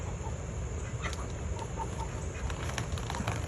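Several hungry chickens cluck and murmur close by, short broken calls over a steady low background noise, with no one speaking, on a chicken farm.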